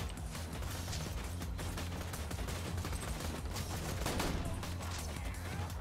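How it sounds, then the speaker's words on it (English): Gunfire from a high-recoil gun in the Borderlands 2 video game, a continuous dense barrage of shots and impacts, steady and fairly faint throughout. "A lot of recoil on this gun."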